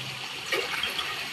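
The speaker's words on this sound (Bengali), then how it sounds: "কুকারের মধ্যে একটু গরম জল বসাই, বুঝলে?" Hot water poured into a pressure cooker during a home mutton curry, a short, close, steady gush of liquid with no voices.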